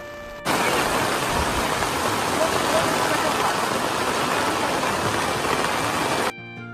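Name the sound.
heavy rain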